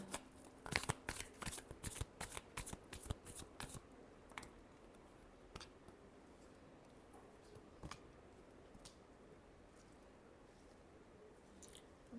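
Tarot cards being shuffled by hand: a quick run of crisp riffling and slapping strokes in the first few seconds, then a few isolated soft card taps over quiet room tone.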